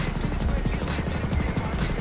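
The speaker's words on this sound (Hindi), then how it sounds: "मेरा हेलीकॉप्टर टूट गया, खराब हो गया हेलीकॉप्टर मेरा।" A helicopter in GTA gives off a loud, rapid, steady rotor chop and a whirring engine drone. The sound is continuous and close, with no voices over it.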